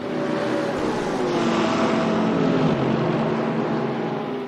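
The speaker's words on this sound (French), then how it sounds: "le moteur de la Bentley, il va nous faire mal" A Bentley race car's engine drones loudly and continuously in RaceRoom on the Nordschleife, a steady roaring whine that holds its pitch with slight rises, close and alone.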